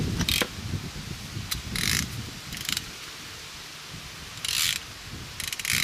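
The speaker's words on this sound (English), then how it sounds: "Let's just get some plugs out of this thing." Ratchet wrench loosening spark plugs from a car engine, several close bursts of sharp rapid clicking separated by brief pauses, with quieter mechanical handling between strokes.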